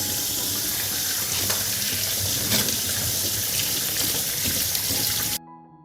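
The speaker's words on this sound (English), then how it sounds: "I'll wash the watermelon first." Tap water runs steadily over a watermelon being washed in a sink, a continuous close splashing stream that cuts off abruptly near the end.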